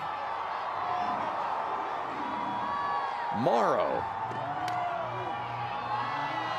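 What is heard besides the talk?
crowd cheering at a softball game, Gell Miller Field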